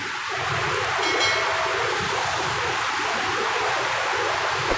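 Steady rushing water flowing continuously through a forest, a broad full hiss with no pauses, fairly loud and close throughout.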